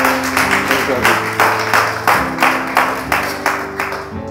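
A church congregation claps together in a steady, even rhythm of loud bursts about twice a second, with music sustained underneath.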